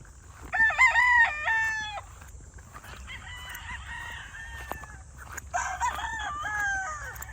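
Chickens and a rooster at a poultry farm, the rooster crowing loudly and close, followed by further crows and clucking over a low steady background hum.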